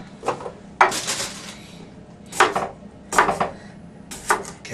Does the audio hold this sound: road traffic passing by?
no